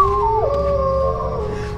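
A man howls in imitation of a wolf, a single loud, sustained tonal cry that slides down in pitch and then holds steady for almost two seconds, with no talking over it.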